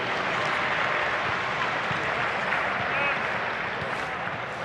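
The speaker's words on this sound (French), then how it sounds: "Applaudissements s'il vous plaît pour Jacqueline Hervoche." Stadium crowd at La Beaujoire, FC Nantes' ground, applauding steadily for a few seconds, a dense continuous wash of clapping with chatter mixed in.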